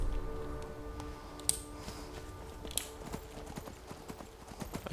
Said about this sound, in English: I wish it showed me my horse's stamina